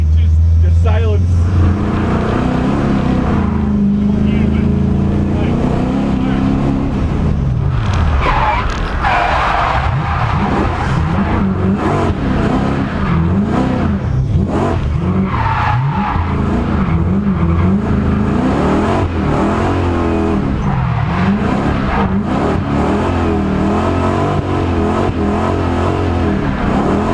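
S62-powered BMW E34 M5 drifting with no handbrake, engine roaring loud and close with shifting revs and tyre squeal running throughout, voices talking over it.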